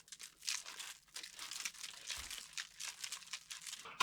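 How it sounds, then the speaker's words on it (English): Foil being peeled off a moisture absorber pack, giving soft continuous crinkling and crackling with small tearing bursts throughout, faint and close, with no talk. "you take the foil off and it gets to work."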